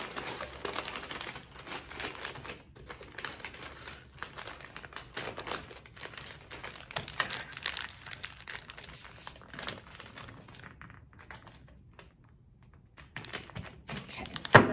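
Wrapping paper crinkling and rustling as a gift box of books is folded and taped, a steady close, soft crackle with small taps, fading near the end before a final rustle.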